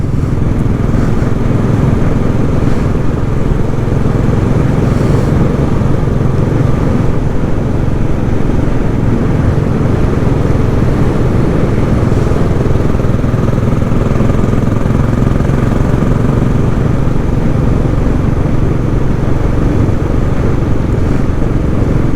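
Royal Enfield Classic 500 motorcycle riding along twisty country roads, a steady loud engine drone with heavy wind rush throughout, no speech.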